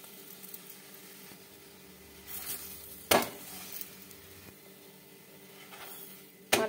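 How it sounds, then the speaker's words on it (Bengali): A methi shak paratha made with spices and white sesame seeds sizzles steadily on a hot frying pan, with a soft continuous crackle, a couple of sharp pan clatters and brief scraping as the flatbread is turned. "এদিকে একটা ফ্রাই প্যান বসিয়ে দিয়েছি, প্যানটা গরম হয়ে গেছে, দিয়ে দেবো রুটিটা"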